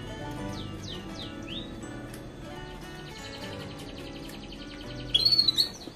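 Yorkshire canaries chirp and trill nearby during pairing for breeding, a few quick sweeping whistles early, then a brief louder burst of rapid song near the end.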